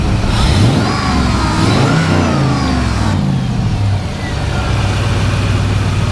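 Close-up LS V8 engine in a 1957 Ford Thunderbird revving repeatedly, the pitch surging and dropping, then settling into a steady rumbling idle.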